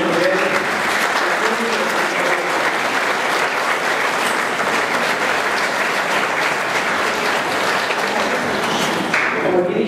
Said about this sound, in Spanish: vamos a dar un aplauso a Juan